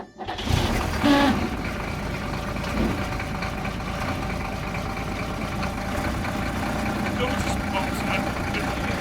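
An ESARCO 8x8 truck's engine idles steadily after starting, a continuous low rumble with mechanical clatter running throughout, while people talk nearby.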